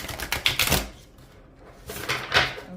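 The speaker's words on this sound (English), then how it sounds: "Just going to shuffle one more time." Tarot cards are shuffled by hand in two quick, close, crisp bursts of riffling with a short pause between them.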